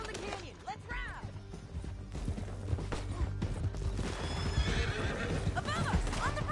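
Horses in Red Dead Redemption 2 neigh and whinny over a steady clatter of galloping hooves, with busy background noise and shouted voices mixed in throughout.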